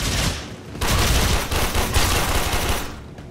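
Rapid bursts of automatic gunfire from the co-op shooter video game Warframe, loud and dense, rattling almost continuously for a few seconds before easing off near the end.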